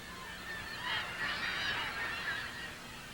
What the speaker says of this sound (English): Another successful colonist is the kittiwake, which nests in cups of seaweed stuck precariously to the cliff with droppings.